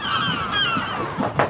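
Several birds honk near a boat at sea, a run of overlapping calls that ends in a louder burst, close and without talk.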